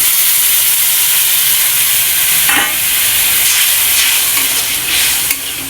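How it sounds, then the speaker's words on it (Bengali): Water from a spice bowl poured into a pan of frying fish curry, a loud continuous sizzle and hiss with bursts of stirring and scraping, steady and close, no talk. "এবার দিয়ে দিলাম মশলা করে রাখা বাটিটা দিয়ে জল।"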